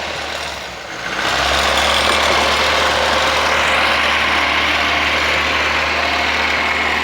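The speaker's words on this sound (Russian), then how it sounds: "Видите, как проседают обороты?" A VAZ 2109 carburetor engine idles loudly and steadily after cleaner is sprayed into the carburetor, with a brief dip in the engine note near the start before it settles back into a continuous running drone.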